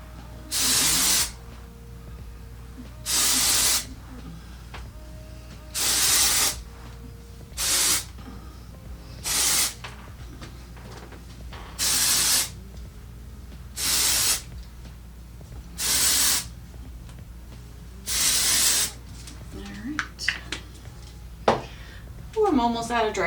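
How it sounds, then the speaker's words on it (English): Aerosol dry shampoo sprayed onto hair in a series of about nine short, loud hissing bursts with brief pauses between them, close up, followed by light rustling and combing sounds at the end. "We're gonna try some dry shampoo since I didn't wash my hair today."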